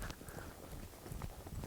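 A ridden horse's hooves clip-clop on the ground in a steady, muffled rhythm under constant background rumble, faint and indistinct.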